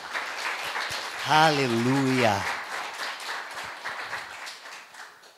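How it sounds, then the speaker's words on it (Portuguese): A church congregation applauds steadily, a dense crowd clapping throughout while a voice calls out loudly over it near the start. "Você pode dar um forte aplauso ao Senhor?"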